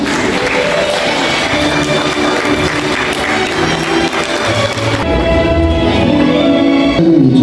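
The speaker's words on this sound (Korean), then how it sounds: "오늘 입장하실 때 큰 박수와 환호로 맞이해 주시면 감사하겠습니다" Guests at a wedding ceremony in a convention hall applaud loudly and continuously, a dense wash of clapping that fills the room and carries on to the end.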